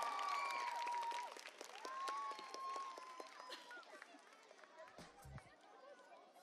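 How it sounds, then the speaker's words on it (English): Crowd applause at a school annual day function, steady clapping from a large audience with some chatter and whistle-like voices over it, fading slightly toward the end. "a big round of applause for"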